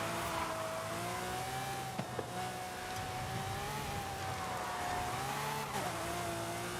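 A car races in Forza Horizon 5, its engine holding a steady, sustained drone with small pitch shifts and brief clicks, heard alone at low level.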